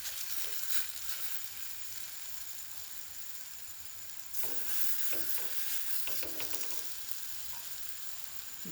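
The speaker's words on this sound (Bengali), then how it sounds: "এবার এগুলোকে এইভাবে ভেজে নেবো" Palm fruit fritters with cashew and coconut fry in hot mustard oil, giving a steady, close sizzle that crackles like rain. It grows louder partway through, with a few stirring scrapes and no voices.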